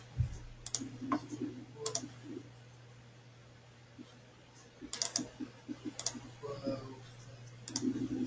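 Small, sharp computer clicks come in scattered bursts, some singles and some quick runs, close and quiet over a faint steady hum, with occasional soft voice sounds in between.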